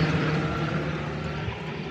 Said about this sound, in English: Got a helicopter coming overhead here.